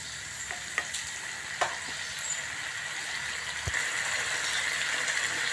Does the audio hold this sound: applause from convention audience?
no